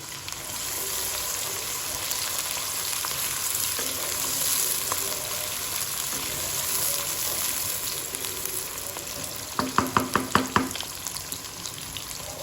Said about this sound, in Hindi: प्याज को अच्छी तरह से सुनहरा ब्राउन आने तक हम इसे फ्राई करेंगे